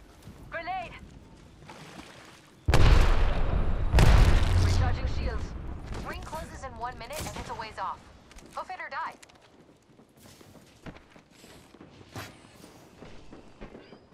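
Gunfire in the battle royale game Apex Legends comes in heavy broadband bursts of rapid shots, loudest from about three to five seconds, with someone talking over and between the shooting.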